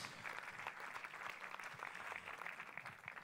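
Festival audience applauding at a film festival closing ceremony, a steady wash of many hands clapping, faint and distant, without a break.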